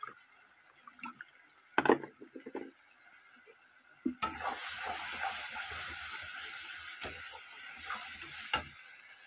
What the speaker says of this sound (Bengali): মশলাটাকে ভালো মতো আগে কষিয়ে নেব।